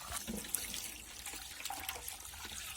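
Homemade butter is rinsed in a third change of water in a home kitchen, giving a continuous soft sloshing and trickling with small splashes and drips, close but fairly quiet.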